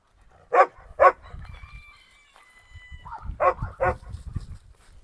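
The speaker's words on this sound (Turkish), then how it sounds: "Bak Apollo ile kavga edecek dede şimdi." Two sharp barks from Dobermans, then a stretch of low growling and snarling scuffle, followed by two more loud barks; close and aggressive.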